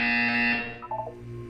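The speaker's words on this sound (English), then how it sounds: "You will hear a buzzer." Buzzer in the Portal 2 video game: one loud, harsh electronic buzz that cuts off after about half a second, followed by a short, faint falling tonal trail.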